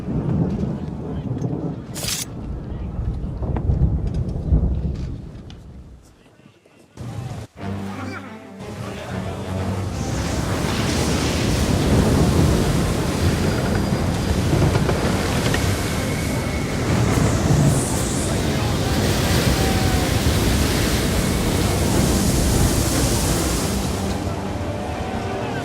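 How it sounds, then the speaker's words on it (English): A storm at sea in Assassin's Creed III: rolling thunder and heavy crashing waves build into a loud, sustained roar after a brief lull, with wind and water churning throughout. "You wish us to sail into the storm?"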